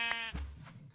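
A single sheep bleat from the Minecraft video game sounds clearly and close, a short wavering cry with no talk over it.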